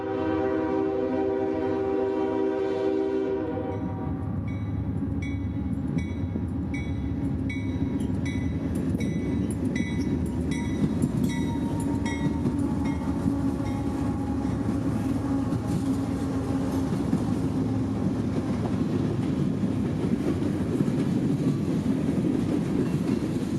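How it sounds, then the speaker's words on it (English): A CSX freight train bound for New Orleans, led by three GE Evolution Series locomotives, passes close by: horn blasts open it, then a long loud steady rumble of wagons with clickety-clack wheel beats, no talk. "one more train would pass prior to our departure. More freight for New Orleans would be the traffic on this M601 with 3 more of CSX's much maligned GE Evolution Series locomotives"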